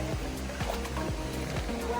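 River water swirling around legs while hikers wade a cold stream crossing on the way to Devil's Bathtub in Virginia, a close continuous rush with rhythmic sloshing steps.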